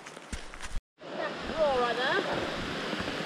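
Steady rushing water of a waterfall on Deep Creek in the Great Smoky Mountains roars continuously at close range after a brief cut, with people talking over the noise.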